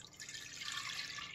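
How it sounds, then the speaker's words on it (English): Milk poured into a pan for homemade vanilla spiced eggnog: a faint, close, steady liquid trickle and splash lasting the whole moment, with no talking. "Now let's pour the milk"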